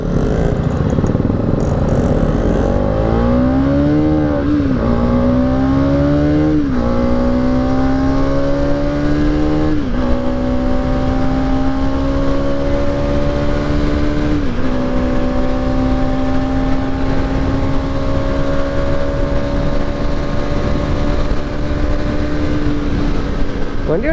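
A 2021 Bajaj Pulsar NS200 motorcycle accelerating hard on a ride, its engine note repeatedly climbing through the gears with shift dips in between, loud and close throughout.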